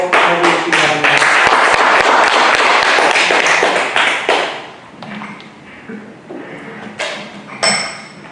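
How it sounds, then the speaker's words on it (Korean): An audience at a Won Buddhist lecture in Busan welcomes the lecturer with loud, dense applause for several seconds, then the clapping fades into scattered taps and a few thuds. "개인들께서는 큰 박수로 해주시기 바랍니다"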